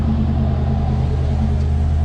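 A 1986 Camaro engine runs close by with a steady, deep rumble that holds level throughout, no voices over it.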